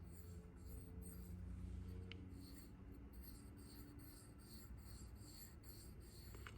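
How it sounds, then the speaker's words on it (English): A thumb rubs along the acid-eaten edge of anodized metal, producing a faint, dry, scratchy rasp with a few quiet ticks against a low background hum. "I'm rubbing my thumb against a live edge"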